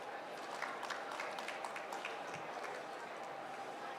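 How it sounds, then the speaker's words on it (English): A hospitality expo audience in Bengaluru gives a round of applause for a speaker, soft even clapping from a distant crowd heard throughout. "Please give a big round of applause"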